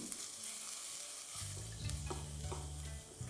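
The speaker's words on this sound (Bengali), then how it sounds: "এবারই সব কিছুকে ভালো করে একবার মিশিয়ে নিন।" Green chillies and turmeric powder frying in a pan for dahi bhindi, stirred with a spoon: a soft sizzle, then a louder, fuller frying hiss with scraping stir strokes.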